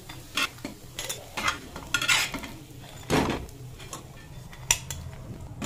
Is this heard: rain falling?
no